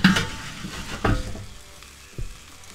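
Bacon jam sizzles and fries on a Weber Mastertouch grill, with a few bursts of stirring and tossing breaking through the steady crackle.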